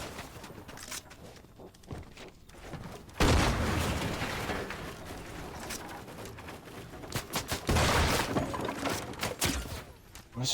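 Gunfire in the video game Fortnite, bursts of shots and impacts in two loud clusters amid quieter scattered game sounds, with rough, uneven rhythm.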